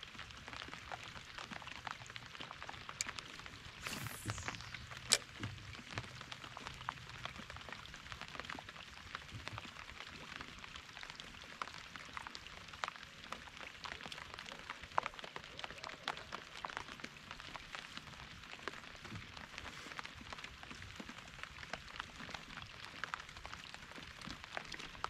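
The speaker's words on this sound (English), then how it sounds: "I'm thinking I'm getting rained out here" Rain falling during a canoe trip at Tippy Dam, a dense steady hiss of drops pattering on water and surfaces, continuous and fairly faint outdoors with occasional sharper taps.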